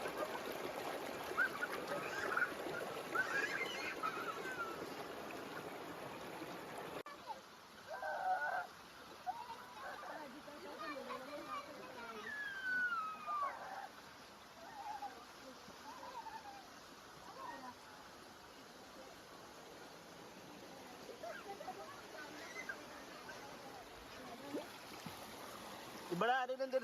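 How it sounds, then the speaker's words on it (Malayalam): A river flows softly on a quiet evening outdoors, a faint steady wash of water with scattered bird chirps rising over it now and then. "ഈ വെള്ളത്തിൻ്റെയും അതുപോലെ കിളികളുടെയൊക്കെ സൗണ്ട് മാത്രമേ ഉള്ളൂ."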